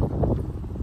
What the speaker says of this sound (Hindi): ओहो यार इतनी तेज हवा चल रही है यहाँ पे